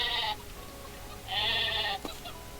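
Sheep in the video game Craftopia bleat twice, each a loud, wavering call, the first short and the second longer, with a brief thud after the second.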